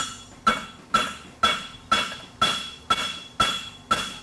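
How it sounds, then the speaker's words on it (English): A blacksmith flattens hot metal: eight sharp, ringing hammer blows at a steady half-second rhythm, each with a bright metallic clang that decays quickly. "we're gonna come in here and flatten it up with the hammer."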